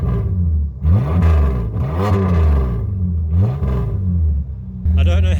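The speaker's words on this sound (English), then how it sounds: "This is what it sounds like with a rusted out exhaust." A loud, rough engine of a VP Commodore with a rusted-out exhaust idles and revs with a deep, raspy rumble, swelling in repeated surges, with a brief higher whir near the end.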